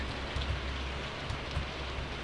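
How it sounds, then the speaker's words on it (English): Steady rain falls in the Stardew Valley farming game, a continuous even hiss of drops with soft low rumbling underneath, with no voices or other sounds over it. "not sure why it's raining again"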